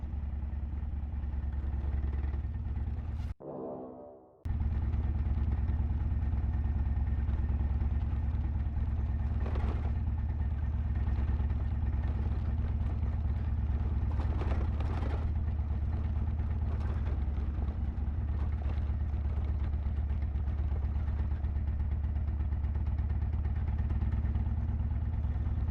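A motorcycle engine drones steadily and fairly close while the bike is ridden along a road, with a brief dropout partway through and no talking.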